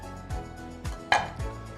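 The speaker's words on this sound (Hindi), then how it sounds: "इसके हम पीसेस छोटे से कर देंगे आधे आधे करके" A medium-sized washed tomato chopped into small halves with a knife on a board, four or five crisp separate chops at an uneven pace, close and clear with no talking.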